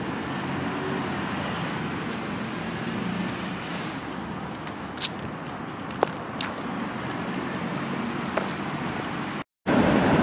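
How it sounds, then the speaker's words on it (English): Steady road traffic rumbles on a busy street in Widnes on a foggy day, with a continuous wash of passing cars, a few faint clicks and knocks, and a brief dropout near the end. "So much traffic."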